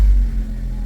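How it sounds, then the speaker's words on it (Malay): A Honda R18A car engine idles after a spark plug and ignition coil change, giving a brief, steady low rumble with no audible stumble or misfire. "Bunyi engine pun okey, macam tak ada misfire."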